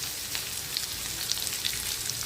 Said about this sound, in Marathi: आता याच्यात बारीक चिरलेला कांदा घालायचा आहे